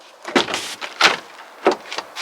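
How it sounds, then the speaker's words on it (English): A few sharp clunks and latch clicks from a crashed BMW M2 Competition's door being opened, three main bursts close by with brief rustling between. "if I open the door,"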